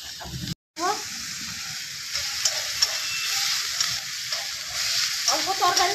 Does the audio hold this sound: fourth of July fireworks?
no